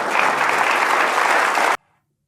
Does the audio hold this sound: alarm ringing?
no